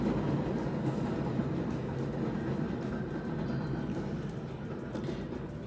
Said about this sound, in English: So let the train go by anyway.